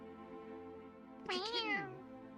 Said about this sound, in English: I'm pretty sure it's just a newborn kitten.